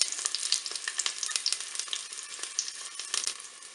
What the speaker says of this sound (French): je vais mettre mes oignons bien dans la cuve. Là, je vais les faire revenir 1 à 2 minutes